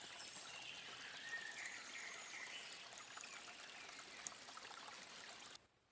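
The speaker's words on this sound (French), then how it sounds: "Le clapotis doux de la rivière." Water gently trickles and laps along a river's edge on an island at night, a soft, continuous burble with faint bright splashes, quiet and even throughout before fading out at the close.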